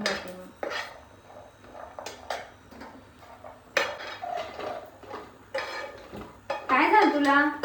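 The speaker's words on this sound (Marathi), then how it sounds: "काजू ना आता भाजत आले बर का." Cashews being dry-roasted in a pan while a metal spoon stirs and scrapes them, giving irregular clinks and rattles close by, with someone talking over the stirring.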